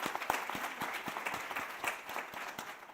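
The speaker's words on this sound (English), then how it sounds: "Let's please give a massive round of applause." An audience at a Namibian women in finance and insurance summit breaks into sustained applause, many hands clapping densely and steadily with sharp individual claps standing out throughout.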